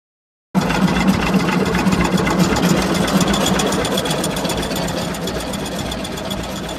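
An old Ford 8N tractor with a four-cylinder gasoline engine runs steadily and loud after a sudden start, with a dense rattling, knocking idle that holds without pause.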